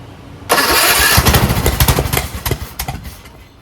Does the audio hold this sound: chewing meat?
no